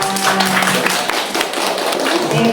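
Audience clapping at an end-of-school-year report card handover event, a dense steady patter of hands filling the clip with some background noise mixed in.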